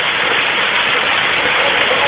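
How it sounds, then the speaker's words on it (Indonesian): Cave waterfall in Kebumen, Indonesia, roaring as a loud, steady hiss of falling water that does not let up. "Pesona Indonesia yang ada di Kebumen, air terjun gua kedalaman gua."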